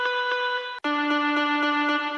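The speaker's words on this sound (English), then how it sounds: "I used also Flex Essential Guitars with this piezo dub preset." Synthesized piezo dub guitar preset from Flex Essential Guitars, a bright plucked pattern of evenly repeating notes with a brief break partway through, clean, close and alone, producing a 2017 progressive house guitar line.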